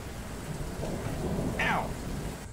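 Heavy rain falls through a fight scene in the German series Dark, a dense wet hiss with a faint rumble and one brief sharp higher cry near the end, no clear speech.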